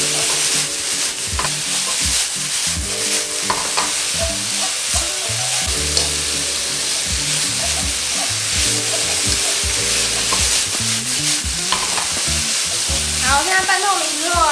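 Loud, close sizzling of potatoes being stir-fried in a pan, with constant hissing and occasional utensil scrapes over background music.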